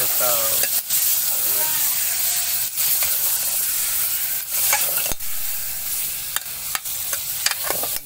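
Mutton sizzles loudly in a hot pan as it is added and stirred, a constant close frying hiss punctuated by sharp scraping and clanking strokes of the spoon.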